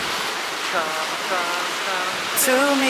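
Steady roar of ocean waves breaking on a Busan beach fills the scene, with several people talking and exclaiming excitedly over the surf.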